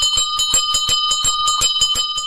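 A cartoon ice cream vendor rings a bell in a quick, steady run of bright metallic dings, loud and continuous throughout with no talking.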